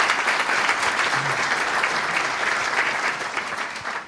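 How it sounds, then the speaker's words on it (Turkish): A dense, steady burst of applause from an audience at a vocational high school coaches' meeting, many hands clapping at once, loud and continuous before tapering slightly at the end. "Onları da bir alkışlamanızı isteyeceğim sizden"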